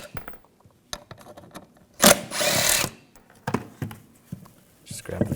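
Power drill spinning a 10mm socket to back out thermostat bolts on a 2006-2010 BMW 550i engine, one loud close burst of whirring lasting about a second amid scattered clicks and handling taps.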